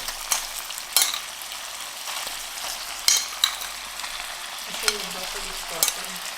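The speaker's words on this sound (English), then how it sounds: "So I'm going to add the broccoli in here." Broccoli and mushrooms fry in a pan with a steady hiss, punctuated by several sharp clinks and scrapes of a utensil stirring against the pan.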